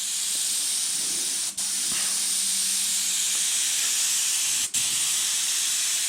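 A paint spray gun hisses loudly and continuously at close range while painting a 1979 Camaro, broken by two brief pauses, with a faint low hum underneath.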